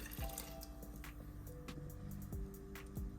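Water splashes and gurgles into an Instant Pot, a soft irregular pouring with a few drips and rising tones as it fills.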